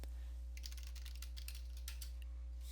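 Typing on a computer keyboard, a quick run of light, close key clicks over a low steady electrical hum, with no talking.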